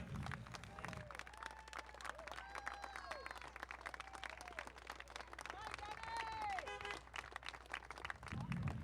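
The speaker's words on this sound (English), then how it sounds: "Round of applause for Gunny." Crowd applause and cheering at a city Armed Forces Day parade, a steady wash of clapping across the whole stretch with scattered whistles, under a loud amplified announcer voice.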